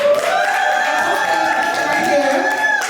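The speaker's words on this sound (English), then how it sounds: "Give Tasha a round of applause." A live podcast audience applauds and cheers steadily for a guest, a dense wash of clapping and crowd voices at full level for the whole stretch, with a voice speaking over it.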